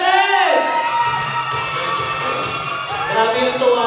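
Wedding guests at the reception shout and cheer loudly for a table number, a dense, lively crowd roar with whoops that swells at the start and again near the end, with voices mixed in.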